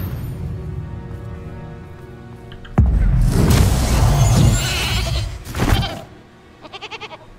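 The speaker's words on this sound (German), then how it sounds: "Eine Ziege." A goat bleats several times in the game Hogwarts Legacy, short loud calls over a rumbling, crashing game background, ending in a quick series of pulsed bleats.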